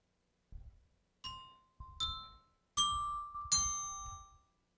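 Clock bell in a radio drama strikes four separate chimes about a second apart, each a bright ringing tone with a lingering decay over a low rumbling background, with no voices.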